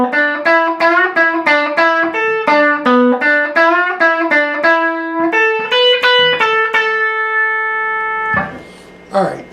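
An electric guitar with effects plays the second measure of a song's solo: a quick run of clean picked notes, then a held note ringing out before a brief noisy pick scrape at the end.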